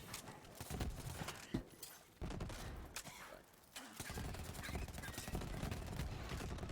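The Kaoson submachine gun fires in the video game Borderlands 3 with splash and incendiary damage, producing a dense, rattling stream of rapid shots and impacts that continues almost without pause, with brief gaps for reloading.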